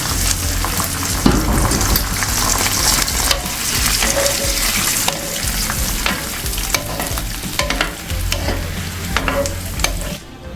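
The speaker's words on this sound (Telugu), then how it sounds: "ఇప్పుడు ఈ డ్రై ఫ్రూట్స్ మొత్తం మనం పాయసంలో వేసేసుకుందామండి." Dry fruits tipped into a pot of sago and carrot payasam and stirred, with a steady close sizzling and scraping, clinks of the spoon against the pan and no voices.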